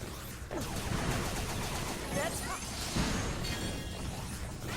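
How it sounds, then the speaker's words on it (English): Explosions and bursts of gunfire in the action game Mighty No. 9, with crashing, shattering hits and whooshes forming a dense, continuous clamor of game effects. "He keeps standing so close to those explosions."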